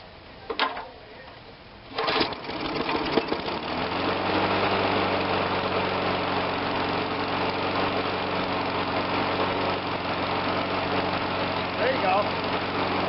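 Briggs & Stratton engine on a Murray 22-inch push mower starts after a couple of pull-cord tugs and settles into a steady, loud idle that runs on unchanged after carburetor and ignition coil work.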